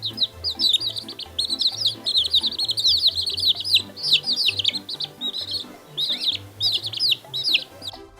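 Yellow chicks cheeping in rapid high trills while a hen clucks low and intermittently beneath them, the busy peeping close and continuous across the whole stretch.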